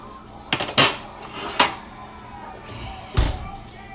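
A baking tray of tacos is pulled from the oven with a few loud metallic clanks and knocks, a sharper clatter near the middle and a heavy thud at the end.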